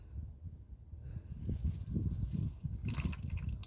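Automatic transmission fluid from a V8 Mercedes drains into a drain pan, a faint low trickle and splash with a light metallic clink partway through, close and quiet, no talk.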